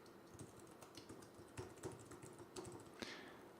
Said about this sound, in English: So I'm going to go ahead and type my PayPal email address in.